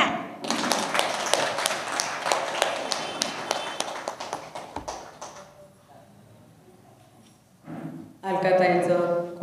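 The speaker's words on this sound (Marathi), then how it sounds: "जोरात टाळ्या." Hand clapping from a birthday gathering's audience, a dense run of claps for about six seconds that fades out, followed by a brief burst of other noise.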